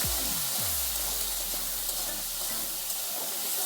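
Peas frying with garlic and chillies in a hot pan, a steady close sizzle and hiss running throughout, with no talking.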